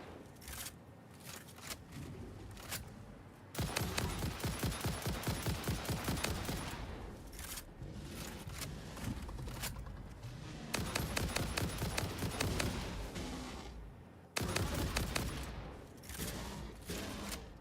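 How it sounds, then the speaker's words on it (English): Rapid bursts of automatic gunfire in the video game Satisfactory, loud and close, coming in several long volleys with short pauses between them. "I'm shooting you in the face."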